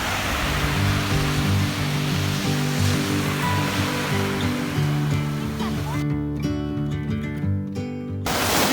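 Broad, constant wash of surf on a Caribbean beach in the US Virgin Islands, loud and close, with a voice talking over it before the roar briefly cuts out.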